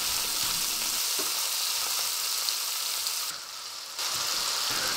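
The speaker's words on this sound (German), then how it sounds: "Den Speck gut anbraten und auslassen." Bacon sizzles and spits in a hot pan as its fat renders, a steady broadband crackle with small pops, briefly dipping quieter for a moment before resuming at full intensity.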